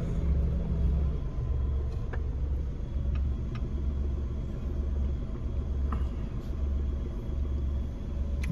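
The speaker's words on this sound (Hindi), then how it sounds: "बहुत ही लंबा जाम लगा हुआ है। गाड़ियां ही गाड़ियां है आगे को लगी हुई" Cars crawl and idle in a long traffic jam, a steady low engine rumble throughout with faint scattered clicks and distant road noise, no voices.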